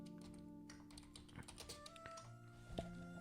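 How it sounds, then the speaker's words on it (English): Faint keystrokes tap on a computer keyboard in a quick irregular run, quiet and close, over a low steady electrical hum. "Let's type in a bedroom. Let's type in minimalist."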